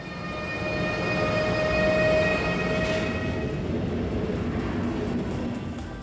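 Double-deck train hauled by a class 223 diesel locomotive pulling out of Munich Hauptbahnhof: a steady, loud rumbling roar with a sustained tonal whine, holding constant throughout, no voices.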